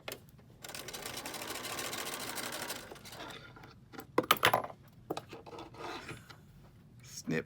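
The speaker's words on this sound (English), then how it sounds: "I'm going to sew onto my thread saver." A sewing machine stitches onto a thread saver while face masks are made, giving a steady close mechanical whir for about two seconds, followed by scattered clinks, taps and light handling noises.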